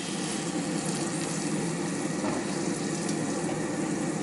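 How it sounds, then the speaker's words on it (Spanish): Hot homemade chicken broth poured into a pot of rice for Peruvian arroz a la jardinera, a loud, continuous rushing splash lasting throughout without pause. "Echaremos ahora el agua, que no es el agua sino el caldo de pollo que hemos hecho"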